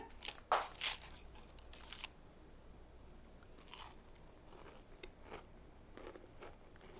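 Someone bites into a crispy, flaky, sugar-topped pastry with a couple of sharp, close crunches, followed by quieter, softer chewing in a calm kitchen.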